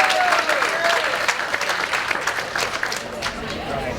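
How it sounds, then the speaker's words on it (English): Audience applause at an evening party honoring Fred Garrity Jr. in June 2021, a steady, dense clapping that holds for the whole stretch with a voice talking over it at first. "So we all owe Fred a great round of applause"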